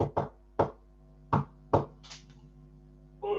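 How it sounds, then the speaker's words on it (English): Five firm knocks on a door, close and resonant, falling in two uneven pairs with a single knock between, over a low steady hum. "Mr. Happy knocked at the door."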